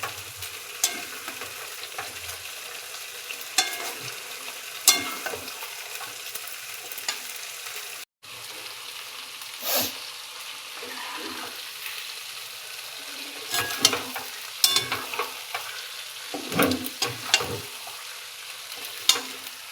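Potatoes and meat frying and stirring in a pan after the spices were fried, with steady sizzling broken by repeated scraping stirs and clinks throughout, close and fairly loud.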